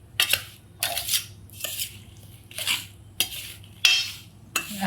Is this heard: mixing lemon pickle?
yes